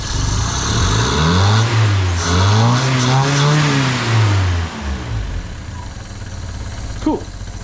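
A vintage car engine revs up and down through a few rising and falling pulls, loud and close, then settles back toward a steady idle near the end.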